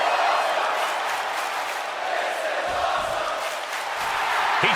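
A dense arena crowd roars and cheers steadily in WWE 2K23, a broad, loud wash of noise that swells and holds throughout.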